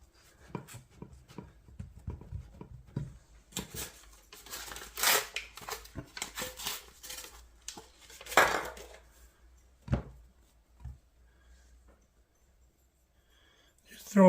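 Biscuits are pressed by hand into the bottom of a metal baking pan, giving scattered soft clanks, taps and scrapes against the metal, some fairly close. Short stretches of talk come between the kitchen sounds.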